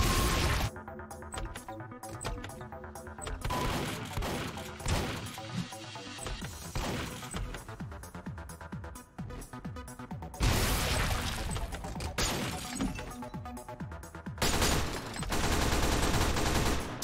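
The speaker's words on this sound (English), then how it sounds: "It's shotgun. Video game shotgun." Shotgun fire in the video game Midnight Mercenaries: loud, dense, repeated blasts and crashing impacts fill the whole stretch, with brief gaps between bursts and no talking.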